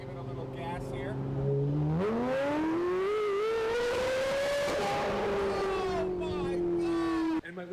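A Porsche 918 hypercar engine revving up from a low idle note into a rising, sustained roar, loud and close, holding a high pitch before easing slightly and cutting off abruptly at the end.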